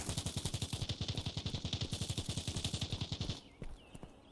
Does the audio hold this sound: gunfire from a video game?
yes